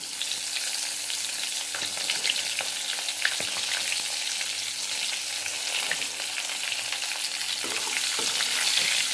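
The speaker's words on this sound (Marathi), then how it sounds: "आपल्याला आता तेलामध्ये वांगे सोडायचे आहे." Stuffed brinjals frying in hot oil give a steady, busy sizzle with crackling pops, punctuated by occasional scraping stirs of a spatula, close and continuous with no talking.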